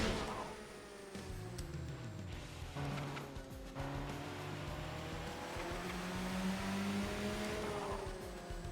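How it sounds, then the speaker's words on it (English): V6 car engine in a racing video game, revving and shifting with rising and falling tones, steady and moderately loud with tire noise underneath. "This car is definitely enjoying the V6."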